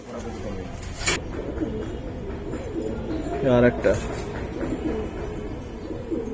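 Giribaz pigeons in a collection coo in repeated low rolling calls close by, a steady throaty burble throughout, while people talk over them.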